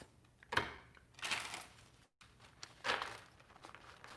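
A deck of cards is shuffled in a few crisp riffling bursts, close and fairly quiet, with a short gap between them.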